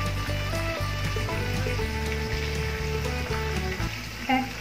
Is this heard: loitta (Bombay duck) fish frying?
yes